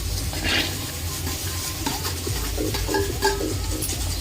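Oil hits a heated pan and sizzles in a continuous, fairly loud hiss, with light stirring and clatter underneath and no voices.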